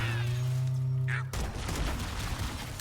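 Needler fire from enemy Covenant troops in the Halo campaign, a dense burst of crackling, popping shots that starts abruptly after a steady hum and keeps rattling loudly to the end.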